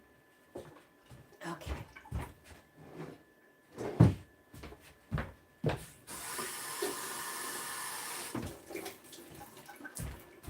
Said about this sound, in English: I'm going to wash that off too.